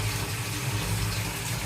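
Water pours and fills a container while chicken feet are rinsed and set to soak at home, a steady, moderately loud gushing flow with a low hum beneath and no voices.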